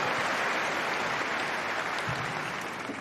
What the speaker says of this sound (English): yes, round of applause, thank you